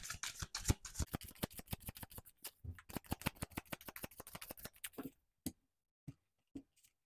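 Tarot cards shuffled by hand in a quick, steady riffle of papery flicks for about five seconds, then a few separate soft snaps as single cards are drawn and laid down, close and alone with no talk.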